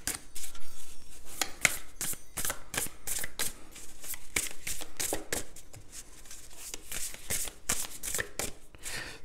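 Oracle cards being shuffled and drawn during a reading make a continuous flurry of quick, crisp riffling snaps and slaps, close and fairly loud, with no talk.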